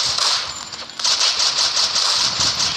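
Rapid bursts of automatic gunfire from the video game Madness Project Nexus, dense and continuous for about three seconds and louder in the second half, with no talk over it.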